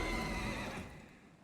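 A horse neighs in the video game The Elder Scrolls Online, a single fairly quiet whinny that trails off, heard alone without speech.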